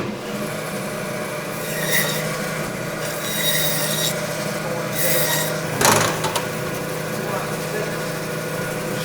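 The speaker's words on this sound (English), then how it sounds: "So let's just get started on the saw." A saw cuts through a pork shoulder during butchering, giving a steady grinding buzz with a few louder rasping bursts and brief voices over it.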